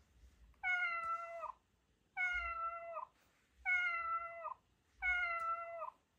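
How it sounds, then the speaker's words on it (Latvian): A cat meows four times in a slow, even rhythm, each drawn-out, tonal meow clear and close with short quiet gaps between. "kaķens raugās uz spožo mēnesi un ņaud, mjau, mjau"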